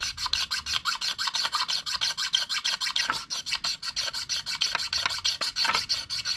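A knife carves thick shavings from resin-rich fatwood for fire starting, making a rapid, even run of close, crisp rasping strokes, one after another, with no talking.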